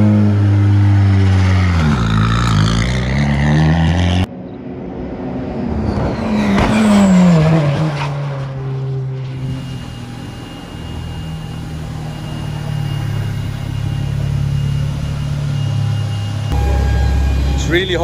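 A race car laps the MotorLand Aragón circuit, its engine revving up and down through gear changes from inside the cockpit, loud and close, with someone speaking over the engine noise.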